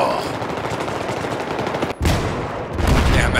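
Dense rapid automatic gunfire in Battlefield 3 through the Venice Unleashed mod, loud continuous bursts with a brief gap, then heavier shots resuming.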